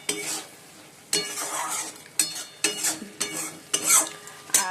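Chicken gravy being stirred and fried in a pan, with steady sizzling broken by repeated scraping stirs and occasional utensil clinks against the metal, close up and with no talking.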